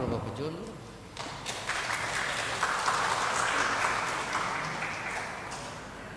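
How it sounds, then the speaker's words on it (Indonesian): Applause from a church congregation at an Ambon Christmas service, a broad steady clapping wash that swells after a quiet start and holds through to the end, with some voices mixed in. "Tepuk tangan Bapak Pejun."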